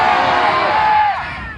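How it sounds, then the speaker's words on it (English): A San Diego crowd shouts names together at the top of their lungs, a brief dense roar of many overlapping voices that holds loud and then tails off. "I want you to yell out that person's name at the top of your lungs"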